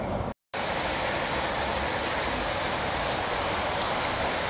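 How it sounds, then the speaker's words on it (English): Rain pours in Mérida, Mexico, as a loud, dense, continuous roar that cuts out for a moment near the start and then resumes steadily, with no voices. "It's raining, it's pouring"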